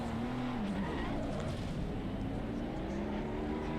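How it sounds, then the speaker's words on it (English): BMW race car in the video game Assetto Corsa Competizione, its engine starting and settling into a steady, loud drone that runs without a break throughout. "So we'll start the engine."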